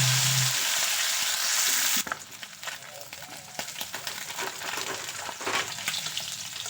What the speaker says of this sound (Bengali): মাছগুলো তেলের মধ্যে দিয়ে মাছগুলোকে ভেজে নেব